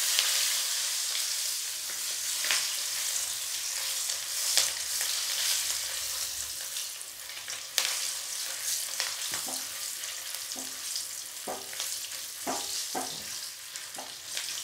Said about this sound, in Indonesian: Selanjutnya kita goreng bakso.